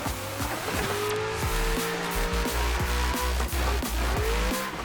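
A racing car in a sim racing game holds a continuous loud engine drone. Repeated tyre squeals and skids rise over it as the car is thrown sideways through a corner.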